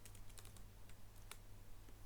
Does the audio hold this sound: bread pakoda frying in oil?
no